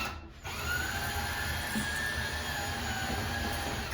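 A power drill whirs steadily, driving a screw into wood to mount brackets for a Hampton Bay white cordless room-darkening vinyl mini blind, running continuously and close up after a brief start.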